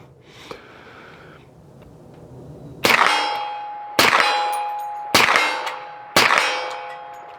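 HiPoint 1095 rifle rounds strike a steel plate target in four loud, ringing clangs, each decaying slowly. A quieter gap comes first, and then the hits arrive about a second apart.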